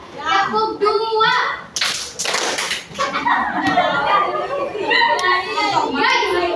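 Children in a classroom clapping-game exercise clap their hands in short bursts amid lively kids' chatter and a teacher's voice, the claps mixed under continuous talk.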